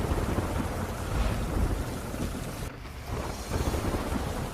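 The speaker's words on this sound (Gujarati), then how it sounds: "પોરબંદરમાં અનરાધાર વરસાદ પડ્યો છે" Heavy monsoon rain pours down in Porbandar, a dense, loud, continuous roar of rainfall with a brief dip partway through, no voices heard.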